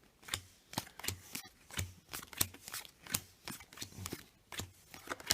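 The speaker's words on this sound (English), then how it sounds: "let's give out 7 of the cards each" Playing cards dealt out one at a time for a seven-card rugby-themed board game, giving a steady run of about fifteen crisp, close slaps and flicks with no talking.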